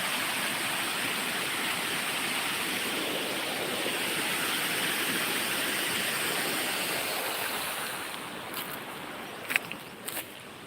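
Water flows over a dam in a continuous broad rushing roar, steady and moderately loud throughout, with a few brief clicks and knocks near the end.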